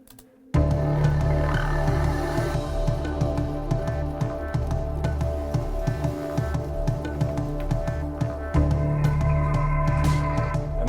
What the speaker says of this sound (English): So that's the reason I choose this tabla sound.